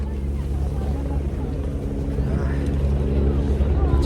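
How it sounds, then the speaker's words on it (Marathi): A helicopter flies close by on the Kedarnath pilgrimage route, its engine and rotor giving a steady, fairly loud low drone throughout, with people talking over it. "आणि जवळ मस्त हेलिकॉप्टरचा आवाज"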